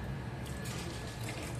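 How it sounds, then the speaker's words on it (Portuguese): Water poured into a thick sauce for fish fillets, a steady soft splashing trickle heard close up throughout, with no talking. "Vou colocar um pouco d'água"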